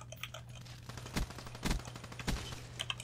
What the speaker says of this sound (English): I think that's an enemy turret.